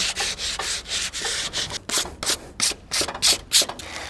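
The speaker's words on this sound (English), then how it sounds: "With the sanding, I'm only hitting the outside and the bottom." Sandpaper is rubbed by hand over the tough plastic body of a Razor scooter, a steady series of close, scratchy strokes that grow into a brisk rhythmic back-and-forth with no talking.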